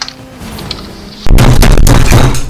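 A bomb blast in a video game lands as one sudden loud boom that cuts through quiet game ambience and then rumbles on heavily for about a second.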